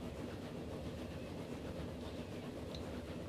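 A steam-era train rolls along the rails in the railway game Transport Fever, set in 1857, as a quiet, steady rumble of wheels and carriages with faint clickety-clack and no pauses.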